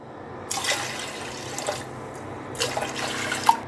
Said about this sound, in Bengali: প্রেশার কুকারে দিয়েছি এবং এখানে চার পাঁচ কাপ পানি দিয়ে দিলাম